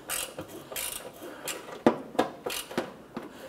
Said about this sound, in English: Using a 7mm socket, we're going to go ahead and remove this little bolt on the inside.